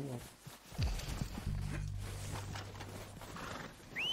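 A horse in Red Dead Redemption 2 lets out a short snort and whinny, followed by soft hoof clops and a faint game ambience, with a voice speaking briefly.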